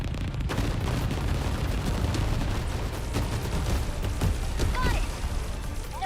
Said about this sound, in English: And even more armor-piercing missiles.